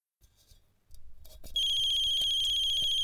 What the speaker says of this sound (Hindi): ये फोन की बेल बजती है